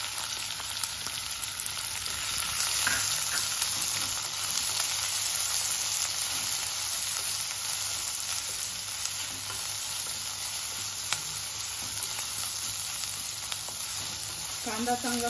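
Onion fries in hot tempering oil with mustard seeds, cumin and curry leaves, giving a steady close sizzle with occasional stirring scrapes and no talk.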